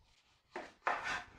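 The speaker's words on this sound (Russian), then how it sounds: "Далее нарезаем лимон полукольцами тоже" Two quick knife strokes slice through a lemon on a cutting board, close and fairly quiet, the second cut longer than the first.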